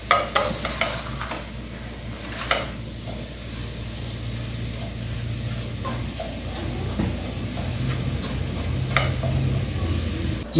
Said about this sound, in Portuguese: enquanto a nossa carne moída tá aqui, ó, refogando